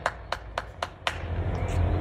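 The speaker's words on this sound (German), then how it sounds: "Großen Applaus." A handful of sharp claps ring out in a quick, uneven run from a small audience, fading into a steady room murmur.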